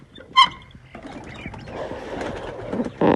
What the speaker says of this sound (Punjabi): ਇੱਥੇ ਬੁੱਢਾ ਕਬੂਤਰ ਫਿਰਦਾ